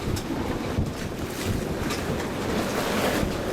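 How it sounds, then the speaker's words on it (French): Strong, steady wind roars across the microphone without letup at a marina at night, with faint water movement and creaking underneath. "Il y a beaucoup de vent."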